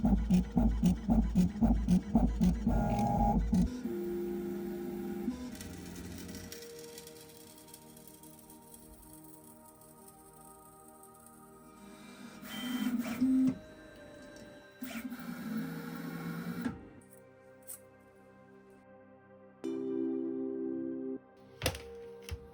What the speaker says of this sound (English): what the tool head does is it raises the bed down and turns the servo 90 degrees, and then it starts doing the bricks in the vertical hatch